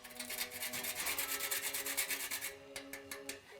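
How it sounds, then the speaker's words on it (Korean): Whole nutmeg rubbed against a grater over lasagna sauce, a steady run of fast rasping strokes up close, then a few slower separate scrapes at the end, with no talking. "이 넛맥을 이제 갈아 넣고 끓여줄게요"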